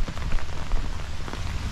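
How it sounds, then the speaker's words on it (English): Steady rain falling on a rainy-season day at a hospital site near Clark Air Base, a dense continuous patter with occasional louder drips, alone and fairly close throughout. "It is a rainy day, but it's rainy season."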